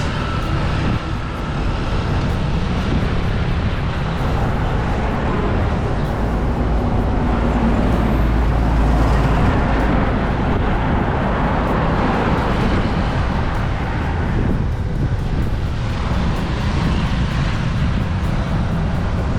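Trucks carrying people along a road toward the town of Bavet, a continuous loud rumble of engines and tire noise passing close by, swelling and easing as vehicles go past, with steady wind in the background.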